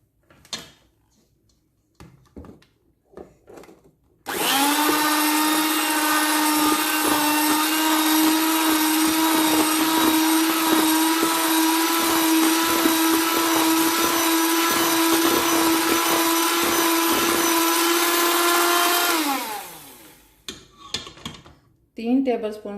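An electric mixer beats cupcake batter for a marble cupcake recipe, a loud steady whirring drone that starts abruptly, runs for about fifteen seconds and winds down, with brief kitchen clatter and faint talk before and after.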